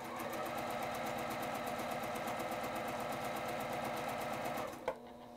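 A sewing machine stitching quilt fabric runs steadily with a fast, even mechanical rhythm, close and fairly quiet, then stops abruptly with a small clunk near the end.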